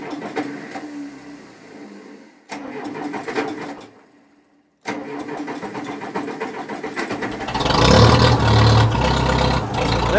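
Tractor engine cranking on a cold day of about 30 degrees, with a weak starter that cuts out briefly, then catching and running louder and rougher as it fires up.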